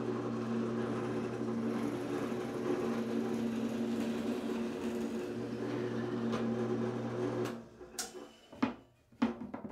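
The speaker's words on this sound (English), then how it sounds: "So I drill the counter bore first and then the 5/16 inch through hole." A steady motorized whine drones for several seconds as a power drill bores a counterbore and 5/16-inch through hole in wood for a crosscut jig, then stops, followed by a few clunks and knocks.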